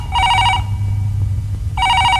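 A telephone rings loudly at close range in a home, two bursts of a trilling electronic bell separated by about a second of steady low hum, with no talking.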